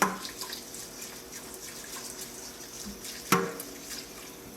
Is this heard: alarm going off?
no